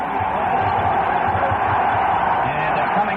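A stadium crowd roars at Yankee Stadium as the Giants are introduced before a football game. The loud, steady wash of cheering and yelling fills the whole short stretch, heard through old radio-broadcast sound.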